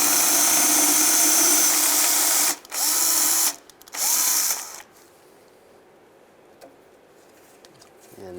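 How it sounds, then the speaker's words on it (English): Power drill boring out timing chain parts on a 2007-2013 Chevy Silverado engine, loud steady whirring in three bursts broken by short pauses, then cutting off to quiet handling noises. "Just take a drill,"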